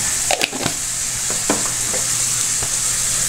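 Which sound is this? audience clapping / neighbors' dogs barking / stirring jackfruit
stirring jackfruit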